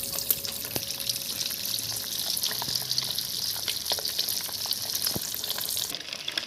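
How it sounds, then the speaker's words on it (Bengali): Eggs frying in hot oil in a wok, a continuous loud crackling sizzle with scattered sharp pops and spits, close and unbroken, with no voices. "ডিমগুলো হালকা ব্রাউন কালার করে ভাজবো"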